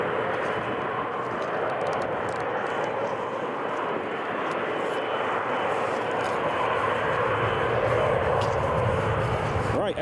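An Emirates airliner taxiing at Newcastle International Airport gives off a steady, unbroken roar of jet engines, broad and fairly loud, holding level for the whole stretch with no clear pauses.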